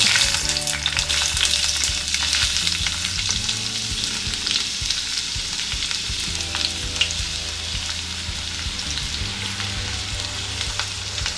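Two chopped onions hit hot oil in a pan for chicken sambar and fry with a steady, dense sizzle and crackle, close and continuous, with occasional stirring scrapes and no voices.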